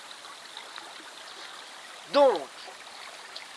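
Flowing water from a stream passing beneath a bridge gives a steady broadband wash throughout, with a brief spoken word cutting in near the middle.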